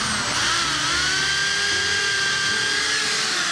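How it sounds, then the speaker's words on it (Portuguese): A power drill bores holes in wood, a close, steady high-pitched whine that holds evenly for several seconds with no talking. "eu vou fazer uns furos aqui"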